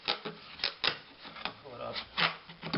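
A sharp utility blade scrapes and slices through water-damaged flooring in short rasping strokes, several close, dry cuts in irregular rhythm with brief pauses between.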